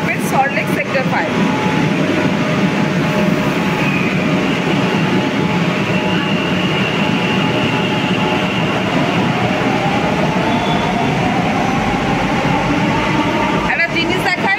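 A Kolkata Metro train pulls out of Salt Lake Sector 5 terminus, a loud continuous rumble with rising whine and rail noise close by throughout, under intermittent talk.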